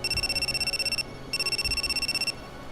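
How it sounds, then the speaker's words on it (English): Shrill electronic cell phone ring in the Death Mark video game, two bursts of rapid trilling tones separated by a short pause, clear and alone. "someone else's cell phone starts ringing shrilly"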